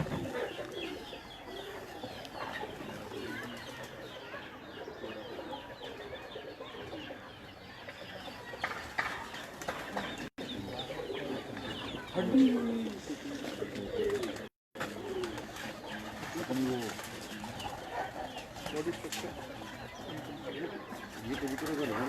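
Pigeons cooing among chickens at a farm house in Chak Shahzad, Islamabad: soft, repeated low coos mixed with clucking and general bird chatter, with people talking nearby throughout.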